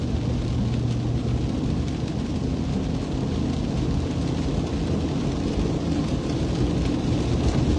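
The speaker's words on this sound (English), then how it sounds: "right now it's still currently rain." Steady rain falls outdoors during a storm in the northern Sacramento Valley, a dense continuous hiss with low rumbling underneath, even and unbroken throughout.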